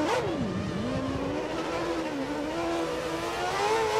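An F1 race car in F1 2013 pulls out of the pits at Spa. Its high engine whine sweeps down, climbs and holds as it accelerates through gears, loud and close throughout.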